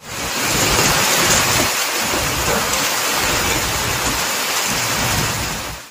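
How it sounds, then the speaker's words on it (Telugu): Heavy unseasonal rain pours down steadily with a dense, continuous hiss, while low rumbles of thunder roll underneath throughout, loud and close with no voices. "ఒక్కసారిగా వర్షం కురిసింది"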